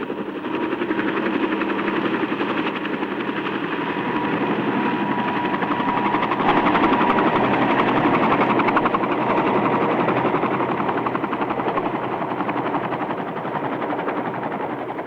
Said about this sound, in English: they sent a helicopter over to investigate